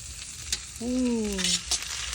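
Chivda spice mix with peanuts, dal and curry leaves roasts in a pan with a steady sizzle and stirring scrapes, and a short tonal squeak sounds partway through.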